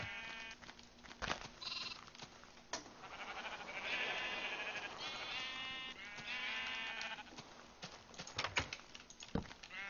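Minecraft sheep bleat repeatedly in the game world, several wavering, nasal bleats overlapping at moderate volume, joined by soft footstep-like taps and a few sharp clicks, with no talking.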